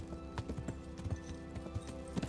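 Steady clip-clop of horse hooves at a walking pace in Kingdom Come: Deliverance, close and fairly loud, with faint game ambience behind.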